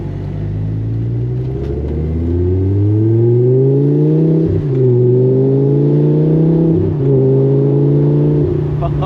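A Lamborghini Gallardo V10 with straight pipes roars loudly up through the revs from inside the cabin, with a couple of sharp shift breaks before it pulls on and settles into a steady drone.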